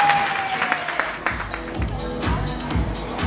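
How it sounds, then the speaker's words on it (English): An audience at a pageant applauds with scattered, moderately close clapping for a contestant, and a voice speaks briefly at the start. "Let's give another round of applause, please,"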